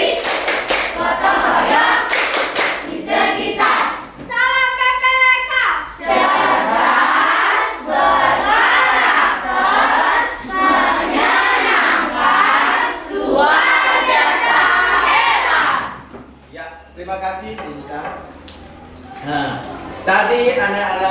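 Indonesian schoolchildren in a classroom perform the tepuk salam clapping chant, a loud group of young voices chanting in unison punctuated by sharp, rhythmic hand claps.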